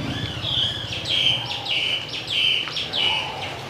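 Several small birds chirp and tweet in quick repeated bursts over a low background hum on a flood-damaged morning street leading to a rural market in Bình Hàng Trung, Vietnam, with the calls fairly close and steady throughout.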